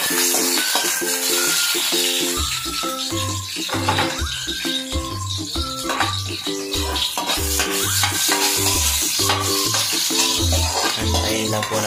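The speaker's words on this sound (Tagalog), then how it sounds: "Tapos magigisa na tayo. Yung bawang sibuyas." Garlic and onion sautéing in a pan, a steady loud sizzle with rhythmic scraping and stirring strokes of a utensil against the pan throughout.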